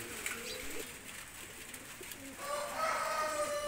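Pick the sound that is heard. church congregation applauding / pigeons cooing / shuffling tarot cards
pigeons cooing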